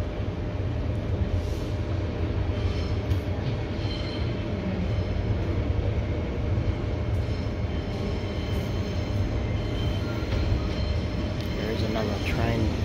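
A train rumbles at a railway platform with a steady low mechanical roar and faint metallic squeals, heard from nearby and sustained throughout, with occasional people talking under it.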